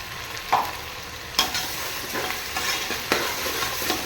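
Ginger garlic paste with cardamom, cinnamon and cloves sputters in hot oil, a loud, close sizzle with a few sharp pops and stirring scrapes.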